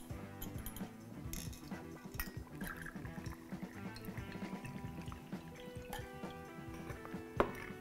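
Aged Chilean pisco poured over ice into a low glass, a soft liquid trickle with faint clinks of ice against glass, steady and close over a low background hum.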